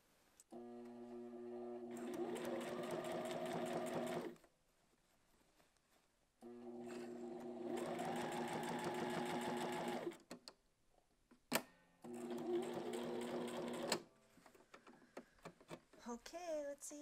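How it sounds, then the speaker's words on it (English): Sewing machine stitching and backstitching along uniform dress pants hem, running in three steady bursts with short pauses between, a mechanical whirring hum with rapid needle rhythm, close and loud, then brief handling noise at the end. "Once you get to the end, backstitch to secure it in place."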